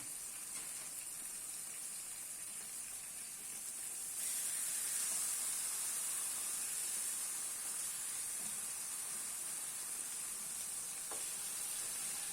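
Beef steak slices searing in a hot pan, a steady faint hiss and sizzle that grows fuller partway through and continues unbroken without talk.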